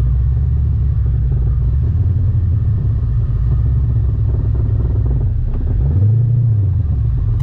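A cammed Corvette C6 with an LS3 V8 is driven with the windows closed, giving a deep, constant exhaust rumble inside the cabin that swells briefly near the end.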